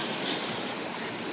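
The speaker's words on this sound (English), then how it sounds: "battle the waves for 60 seconds, which is back into the wave pool" Waves in a water park wave pool, a steady broad wash of surf and churning water, fairly loud and continuous with no voices.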